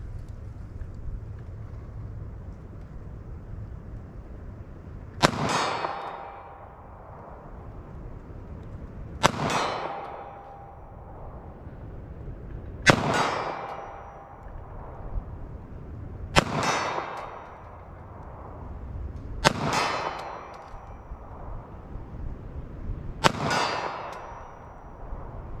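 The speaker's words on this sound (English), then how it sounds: "come back to 40 yards, just do all my shooting from 40 yards and see how these things will group for me" A 9mm handgun fires slow, deliberate shots at 40 yards, six sharp loud reports spaced about four seconds apart, each followed by a brief ringing echo at an outdoor range.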